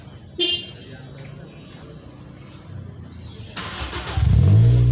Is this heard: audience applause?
no